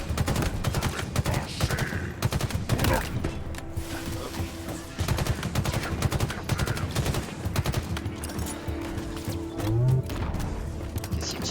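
In Halo Infinite, an Elite fires on the player in rapid bursts of gunfire over busy combat noise and explosions, loud and near, with faint game sounds between volleys.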